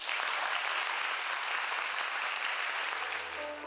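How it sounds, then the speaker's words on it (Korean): An audience applauds before a concert of traditional Korean yanggeum music, a dense, steady wash of clapping from a crowd, loud and continuous throughout, with a few faint tones creeping in near the end. "큰 박수 부탁드리겠습니다"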